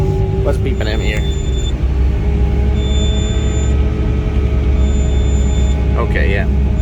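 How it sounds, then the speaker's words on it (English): Inside the cab of a Fendt 1050 tractor, a thin high warning beep repeats in evenly spaced pulses over a heavy, steady engine rumble, with someone talking briefly. "What's beeping at me here?"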